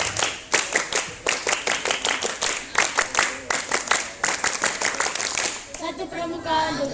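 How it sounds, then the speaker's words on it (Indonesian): A group at a school scout gathering performs the rhythmic tepuk pramuka clapping pattern, sharp synchronized claps in short bursts and pauses, with chanting voices between and a voice speaking at the end. "2 kali tepuk pramuka"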